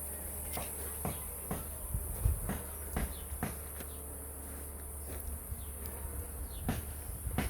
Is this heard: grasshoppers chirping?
yes